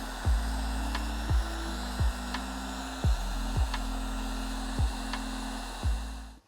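A heat gun blows hot air steadily onto a cut automotive wire harness during repair, a constant close whooshing drone. Faint regular clicks recur about once per second underneath it.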